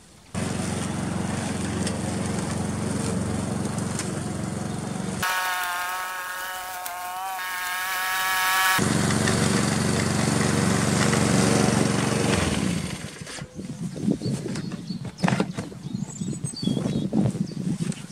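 Lawn mower cutting grass in a garden, a loud steady engine drone that breaks off for a few seconds, where a higher whining tone sounds on its own, then returns before fading into scattered clatter and rustle.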